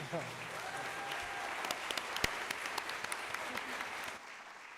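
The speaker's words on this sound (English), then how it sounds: "Let's give our students a round of applause" An auditorium audience applauds a student panel at a school learning celebration, with steady broadband clapping and a few sharper claps standing out, then a quick fade near the end.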